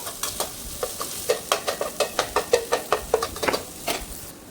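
Tomatoes sautéing in a pan for chicken kothu idiyappam, a steady sizzle with a regular series of scraping stir strokes, close and fairly loud, no voices.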